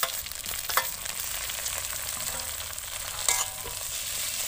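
Spice paste of ginger, garlic, green chilli and tomato fries in hot oil, giving a steady close sizzle with occasional stirring scrapes and no talk.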